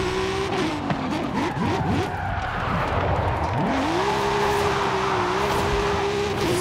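A BMW M3 E36 in Forza Horizon 5 reversing at speed, its engine droning and revving up and down while tires squeal and skid, then settling into a sustained high rev.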